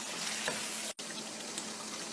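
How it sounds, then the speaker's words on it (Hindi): Chicken pieces frying over high heat for a spicy masala gravy, giving a steady broadband sizzle with one brief dropout near the middle and no voices. "शुरू का 1 मिनट चिकन डाल के हाई रखना है और 1 मिनट चिकन डाल के भून लेना है"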